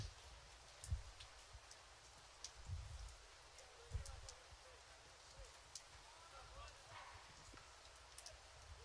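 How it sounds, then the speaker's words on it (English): Steady rain patters and drums on an outdoor microphone at a soccer match, with soft thumps and crackles over a constant wash of falling drops. "You can hear the rain falling"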